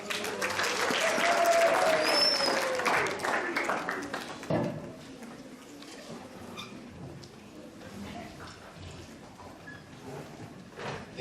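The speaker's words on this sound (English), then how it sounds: "May we give him a round of applause." An audience applauds a speaker at a school foundation-laying ceremony, loud clapping for the first few seconds and then tapering into scattered claps and murmurs, with a voice over the applause early on.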